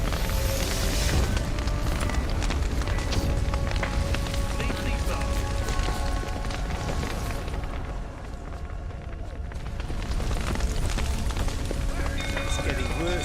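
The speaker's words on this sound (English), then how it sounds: "fire's spreading" Fire spreads and burns in The Witcher 3, a loud, continuous roaring crackle filling the scene with a brief dip in intensity midway before surging again, a voice talking over it.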